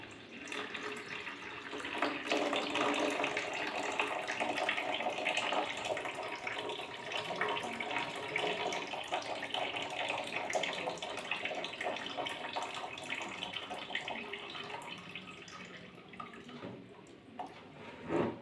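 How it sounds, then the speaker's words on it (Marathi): Hot water pours steadily out of a container in a continuous splashing stream, close and fairly even, tapering slightly near the end. "गरम पाणी आपण पूर्णपणे काढून घ्यायला या प्रकारे तुम्ही काढू शकता"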